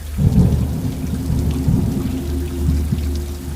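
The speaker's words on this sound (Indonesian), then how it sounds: "hujan pun turun dengan derasnya, disertai angin dan kilat yang sesekali menyambar" Heavy rain pours steadily with deep rolling thunder and gusting wind, a loud, continuous storm roar with low rumbles swelling near the start and again midway, no voices present.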